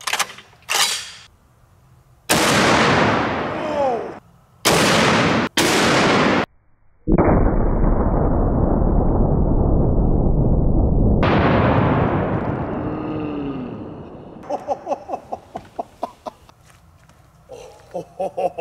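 A .50 BMG green tip round fired at a 150 lb slam ball outdoors: several sharp, very loud gunshot cracks, then a long ringing roar that fades, followed by rapid metallic rattling clicks.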